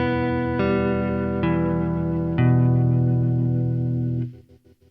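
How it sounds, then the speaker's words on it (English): A guitar tone run through a Meris Mercury X pedal with tremolo applied only to the reverb: sustained chords ring with a pulsing, shimmering reverb tail while the dry signal stays steady, fading out at the end. "So we can hear there that the trem is applied to the reverb, but it is not applied to the dry signal."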